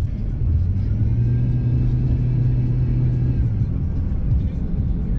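Steady low road rumble from inside a moving GMC truck with a cammed engine, with a droning engine hum and constant tire noise throughout.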